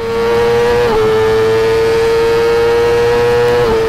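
A Suter Moto2 racing motorcycle engine screams at full throttle at very high revs, a loud, sustained, close-up howl holding near-constant pitch with brief dips around gear changes.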